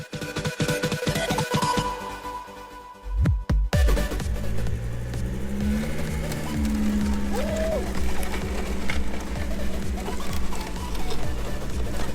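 An off-road vehicle drags a log in place of a front wheel through dirt, giving a steady loud engine drone with scraping and rumbling throughout, plus a brief pause in the noise early on.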